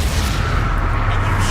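A Confringo fire spell bursts in Hogwarts Legacy, a loud, dense booming rumble that fills the whole moment without letting up.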